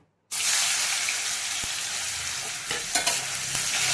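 About 4.5 kg of mixed vegetables, including peas, cauliflower, carrots and beans, dropped into hot mustard oil in a wide wok set off a sudden loud, steady sizzle, with some clattering stirring toward the end.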